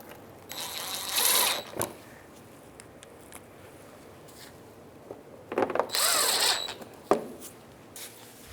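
A power tool drives bolts up into the undercarriage skirt of a 2008-13 Mazda 3, with two whirring bursts, each ending in a knock. The bursts are close and moderately loud, with quiet gaps between them.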